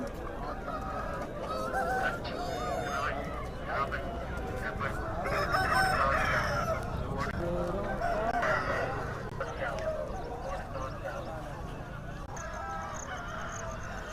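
A native country rooster crows loudly at a busy open-air chicken market in Nallapadu, with other fowl clucking and a low murmur of crowd noise around it.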